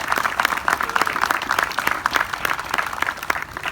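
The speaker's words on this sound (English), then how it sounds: "I want to give you a round of applause." A crowd applauds at the grand opening and ribbon cutting of a ShopRite supermarket, a dense and steady round of many hands clapping at moderate volume for several seconds, with no voices on top.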